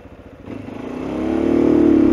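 A 2016 Mondial Rx3i Evo motorcycle engine runs close by, its note climbing and growing louder over about two seconds, as if being revved.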